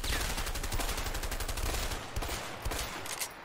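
Rapid bolt-action rifle gunfire in the video game A Way Out, a dense, loud burst of repeated shots for about two seconds, then scattered single shots trailing off.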